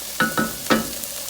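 Vegetables sizzle in a pan as they cook down for a catfish courtbouillon, with three short stirring scrapes over a faint frying hiss, close and fairly quiet.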